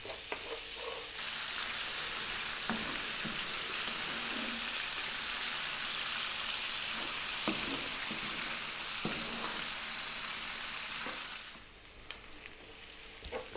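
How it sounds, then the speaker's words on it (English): Onions fry in oil in a pan over medium-high heat, giving a steady, dense sizzle with a few faint clinks of stirring. The sizzle eases slightly near the end. "we've been frying our onions for about 3 or 4 minutes"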